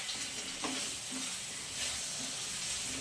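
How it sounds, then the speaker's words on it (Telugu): Chicken frying in a pan with black pepper and spices, giving a steady close hiss and sizzle with light stirring scrapes throughout. "ఇక్కడ వచ్చేసేమో మిరియాలు వేసి అయితే ఫ్రై చేస్తున్నానండి చికెను"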